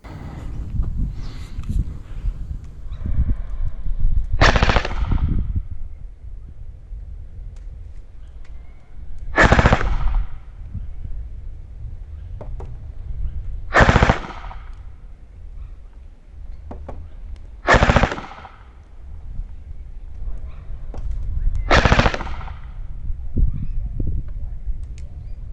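A gel ball blaster fired at a target 40 meters away outdoors: five sharp, loud shots spaced several seconds apart, each a short crack over a low rumbling background.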